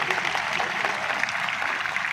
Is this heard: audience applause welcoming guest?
yes